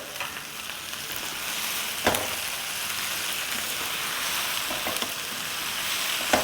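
Tomato fries in onion masala for a bhindi sabzi, a constant bright sizzle and crackle close by, with a few spoon scrapes against the pan; nobody speaks.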